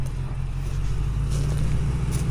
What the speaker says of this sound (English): I was super curious to see how the truck would do going over it